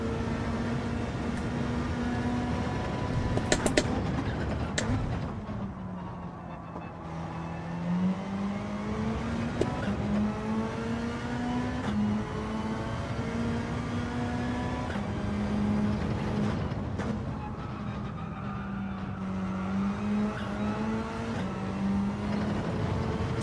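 A racing video game car engine accelerates steadily through a time trial, its pitch rising and dipping as the car turns, sustained and loud with no talking.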